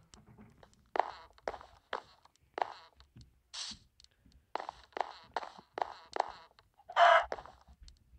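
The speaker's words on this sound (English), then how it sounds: "Sorry, chicken." Minecraft chickens in a Sky Wars match give a run of short, repeated clucks and squawks, loud and close, mixed with footstep-like game sounds and no talking.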